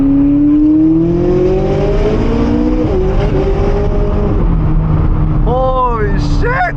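A McLaren sports car accelerates hard on a night drive, its engine climbing through rising revs with gear-change dips and a loud close roar as a voice speaks over it.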